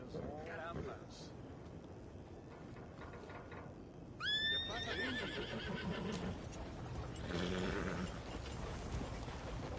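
A horse gives one loud, shrill whinny that rises and trembles for about a second midway, with faint hoof clops and murmuring voices around it in an outdoor setting.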